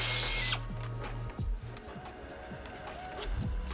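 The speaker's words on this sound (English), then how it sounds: "Loosen up your clamps for your boost hose to your throttle body." Hand tool working hose clamps on the boost hose running to the throttle body during an EQT MPI installation, with short, near-field mechanical clicks and a couple of quick ratcheting bursts against a steady background hum.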